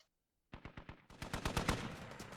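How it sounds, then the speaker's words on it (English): Gunfire in the video game Squad: after half a second of silence, a rapid burst of automatic shots cracks out, then a louder, denser volley of fire that continues to the end, close and sharp. "Oh, Fulcrum opens fire"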